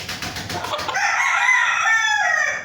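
A Golden Boy Sweater gamefowl rooster, sick with fowl cholera, lets out one loud close crow that starts with a few choppy clucks and then stretches into a long drawn-out call with no talk over it.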